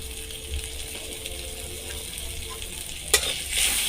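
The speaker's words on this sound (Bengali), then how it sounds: "এরপর এটাকে কিছুক্ষণ নেড়ে নিলাম।" Momo filling of potato, soybean, salt and chopped green chillies frying in a pan, a steady close sizzle with soft stirring scrapes, a sharp metallic clink near the end, and no voices.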